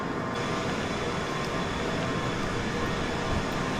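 A London Underground Piccadilly line train runs along the track, a continuous loud rumbling roar with a steady hum, heard from inside the cab with no talking.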